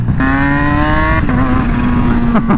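A Kawasaki H2 motorcycle engine revs loudly and close, with a harsh, steady throttle-on tone that briefly dips and picks back up, showing its touchy on-off throttle response.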